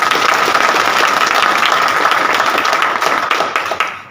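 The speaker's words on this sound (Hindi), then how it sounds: "एक बार अपने आप के लिए जोरदार तालियां दो।" Seminar audience in a hall bursts into dense, sustained applause, many hands clapping together loudly and evenly before tapering off at the end.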